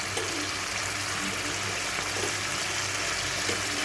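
Oil sizzles in a pan while a dried-fish chutney is cooked, making a dense, even hiss that runs the whole time with faint low background sounds and no talk.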